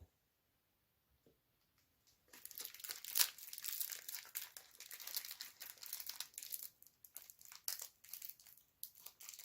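Plastic bags around vintage Ronson lighters crinkle and rustle loudly and continuously after a couple of seconds of quiet, with sharp crackly bursts throughout.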